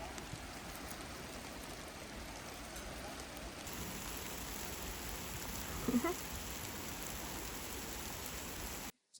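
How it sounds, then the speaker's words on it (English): Steady rain falls during a thunderstorm on the Wedgemont Lake Trail, a constant, dense hiss of drops on surfaces that stays even throughout, close and enveloping, then cuts off abruptly at the end. "It's raining. We're hiding from the rain."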